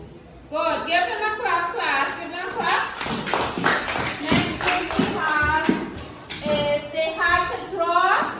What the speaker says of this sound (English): So give yourself a clap now.